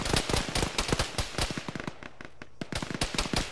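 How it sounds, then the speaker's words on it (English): Repeated distant booms and cracks from a military video game, tank shell explosions and scattered gunfire popping in a steady irregular rhythm, fairly faint and far off with no talk over them. "Who's taking a tank shell distant east?"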